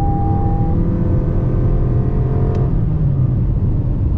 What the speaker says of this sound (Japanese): グッと踏むとエンジン音まあまあ入ってきますけども